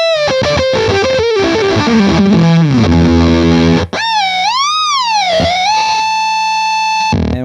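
Octa-Tron guitar effect pedal howls with octave-switched feedback, loud distorted tones sliding and stepping in pitch, briefly cutting out before rising, warbling sustained squeals take over.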